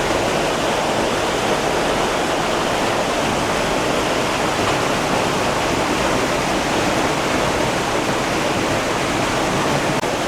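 Water rushes past the remains of an old mill wheel in a steady, loud, broadband roar, continuous and unbroken, with no voices over it.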